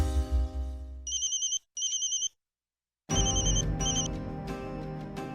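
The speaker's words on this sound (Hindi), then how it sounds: "रुक, मैं देव को फोन लगाती हूँ।" An outgoing phone call rings on the line, repeated electronic ringback tones in short bursts with pauses, following a brief musical sting and leading into dramatic background music.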